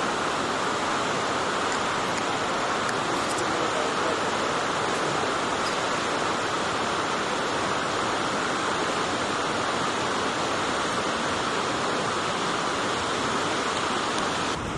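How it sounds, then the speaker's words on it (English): Thunder Creek Falls in New Zealand pours down in a steady, loud roar of falling water that never lets up, a broad continuous rush with no voices over it. "We stopped at Thunder Creek Falls."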